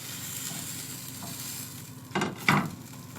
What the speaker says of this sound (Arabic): واول ما نحرك الكريبايه بتاعتنا كده وتعمل شخلله في الطاسه بتاعتنا يعني كده، شايفين الصوت ده؟